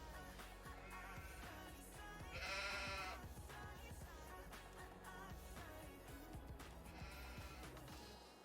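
Sheep bleat in Farming Simulator 22, a few drawn-out calls rising above a dense, continuous layer of game ambience and background music.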